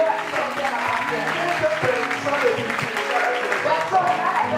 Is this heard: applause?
yes